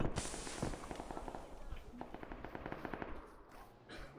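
Rapid bursts of automatic gunfire crackle steadily in a video game, with sharp repeated shots layered under a voice and constant background noise.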